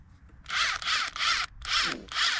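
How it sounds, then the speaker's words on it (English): An impact driver on a long socket extension spins out bolts while replacing the heater blower resistor on a 2005 Ford Sport Trac, five loud buzzing bursts in quick succession with short gaps between them. "Impact driver with a mile long extension."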